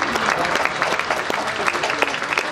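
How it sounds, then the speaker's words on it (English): Steady applause from an indoor audience at a Marine Corps Recruit Depot San Diego graduation, dense and sustained clapping that holds at an even level throughout. "please join me in a round of applause for the company staff of Company G."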